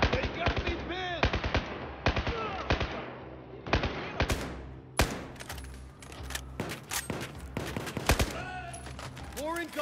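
Bursts of machine gun fire in a Battlefield 4 urban firefight in Baku, loud rapid rattling volleys broken by short pauses, with soldiers shouting over the shooting.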